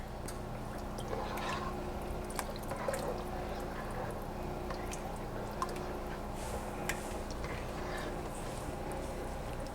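Fresh basil stirred into a creamy vegan tomato soup, soft wet squishing and occasional faint dripping clicks over a low steady background, close and quiet, with no voices.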